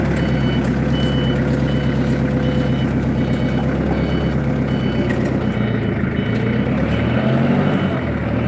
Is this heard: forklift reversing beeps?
yes